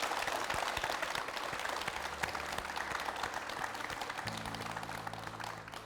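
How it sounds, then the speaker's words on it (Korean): Applause from the audience for the Gwangsan-gu district head Park Byung-gyu at a Gwangju MBC town-hall broadcast, steady dense clapping filling the room throughout, with a low steady hum entering near the end. "진심을 다해서 말씀해주신 광산구청장께 박수"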